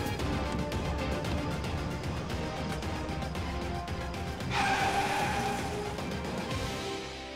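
A car brakes hard and skids to a stop, tires squealing loudly over a steady engine and road noise, the screech rising and then fading as the vehicle halts.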